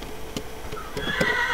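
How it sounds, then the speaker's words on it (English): A horse in the video game Minecraft whinnies once near the end, with a few soft clip-clop steps before it, fairly quiet over a low background hum. "What are we trying to do with this damn horse?"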